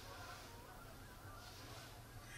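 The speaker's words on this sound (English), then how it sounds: "And a whole bunch of geese." A flock of geese honks at a distance during a New York rifle season evening hunt, faint and continuous under steady wind and field noise.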